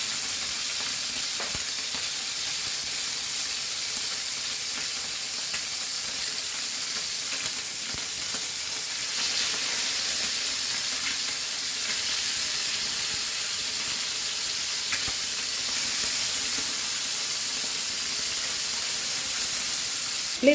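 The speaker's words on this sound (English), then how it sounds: "Fry it both the sides" Chicken wings fry in a pan over a medium flame, giving a steady, close sizzle and hiss that carries evenly throughout, with faint scattered crackles and no talk.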